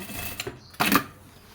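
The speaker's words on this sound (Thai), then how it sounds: "กลางตะเข็บออกเย็บรอบสองนะคะ" Domestic sewing machine running a second seam along fabric in short bursts, with a brief whir near the start and a louder burst of stitching near the end, close by and without talk.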